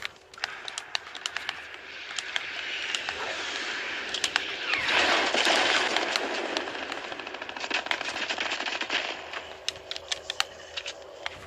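A minigun fires in a Deadpool video game, heard as rapid, clattering bursts of shots with a louder sustained stretch in the middle, then scattered quicker bursts.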